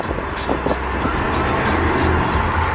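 A BMW with a B58 engine and an aftermarket downpipe exhaust drives under steady throttle, producing a loud, continuous engine and exhaust drone heard from inside the car.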